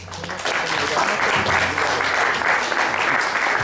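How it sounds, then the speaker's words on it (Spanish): An audience at an academic colloquium applauds to welcome the presenter, a thick, even burst of clapping that swells after a brief softer start and holds steady, with faint talk mixed in. "Les pido un fuerte aplauso para recibir."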